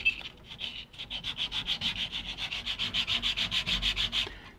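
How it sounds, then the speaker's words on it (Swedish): Edges of an aluminium sign clamped in a vise are sanded by hand, a rhythmic series of about two dozen rasping back-and-forth strokes, close and steady, speeding up slightly toward the end. "slipa kanterna på aluminiumskylten"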